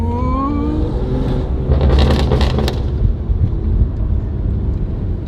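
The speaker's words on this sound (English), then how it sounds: "the tones of this exhaust, it's very, very noticeable" A BMW M2 Competition with a valved rear exhaust box drones loud and close, its tone climbing at first and then holding a steady rumble, with wind noise over the microphone.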